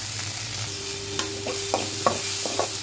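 Tomato and onion frying in oil in a pan for chana masala, a soft steady sizzle with a few light scrapes and clicks of stirring, quiet and close, with no talking.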